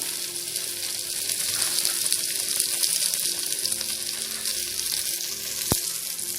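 Loud, steady sizzling of green chillies added to hot tempering oil with mint and fenugreek leaves, continuous crackle throughout with one sharp click near the end.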